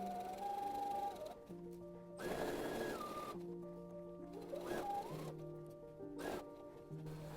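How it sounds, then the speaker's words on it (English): Sewing machine stitching along a table napkin seam, a quiet steady motor whir with short bursts of stitching separated by brief pauses, heard up close. "Continue sewing along while removing the pins as you go."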